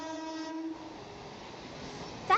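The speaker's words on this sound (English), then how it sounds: "as the train approached Madurai, again it slowed and finally came to a halt." A passenger train slowing to a halt on approach to a station, with a sustained tonal horn fading out, a low rumble of railcars settling, and a brief squeal at the end.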